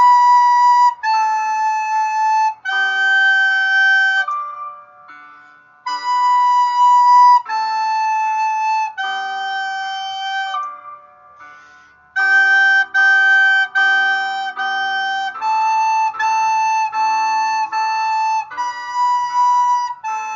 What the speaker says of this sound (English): You'll have an accompaniment track on Seesaw that you can play along with.